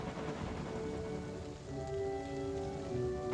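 Steady rain patters on a surface, a dense continuous hiss with a low rumble and faint tonal hum underneath.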